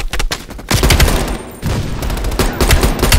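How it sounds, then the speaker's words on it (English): Heavy machine gun fire rakes a ridge in the Black Ops Cold War campaign, loud sustained bursts of rapid automatic shots with dense overlapping gunfire and a brief lull near the middle before the firing resumes. "Heavy MG on the ridge!"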